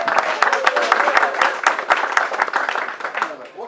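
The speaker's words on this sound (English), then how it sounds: "Round of applause for our gentleman" A lively round of applause from a nearby audience, brisk overlapping claps with a few cheers, fading slightly toward the end.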